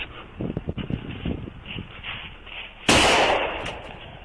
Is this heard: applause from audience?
no